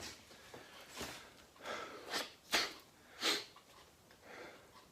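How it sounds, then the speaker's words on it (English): A few quick nasal bursts, sniffs or snorts building to a short sneeze-like blast, alone in a quiet room with no talking. "Sneeze."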